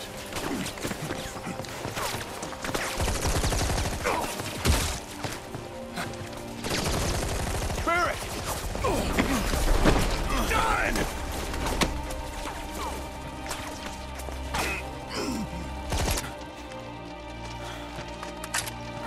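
Bursts of gunfire crackle through a battle in Final Fantasy 7 Rebirth, rapid automatic volleys and single shots over music and game effects, dense at first and thinning out toward the end.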